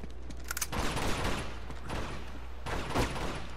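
Scattered gunfire in Uncharted 2, a few sharp bursts around the start, middle and near the end over a steady low rumble of game ambience, with no talking.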